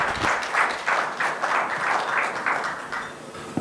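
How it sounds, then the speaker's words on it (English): Audience applause at a formal ceremony celebrating an accomplishment: a room of many hands clapping steadily at moderate distance, a dense continuous patter rising and falling slightly before tapering off toward the end. "Now we can clap."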